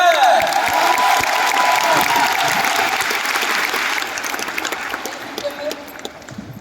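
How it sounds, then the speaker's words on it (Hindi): A large crowd at an Amway Star Award event in Delhi claps loudly with some cheering, strong at the start and gradually tapering off, with voices heard toward the end. "Let us welcome, एक जोरदार ताली तो बनती है।"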